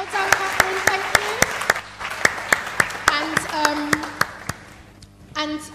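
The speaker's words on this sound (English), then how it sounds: "Can we give Catherine a clap?" Sparse, sharp claps ring out for Catherine at a talk on caring for Black hair, roughly steady single hits, while a voice speaks over and between them.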